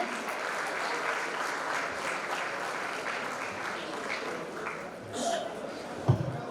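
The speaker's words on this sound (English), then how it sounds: "Please join us in welcoming our panelists to the stage. A big round of applause to them." A conference audience applauds as panelists walk onto the stage for a workforce skills panel, a fairly quiet, sustained patter of clapping that runs steadily throughout and ends with a single sharper clap or knock.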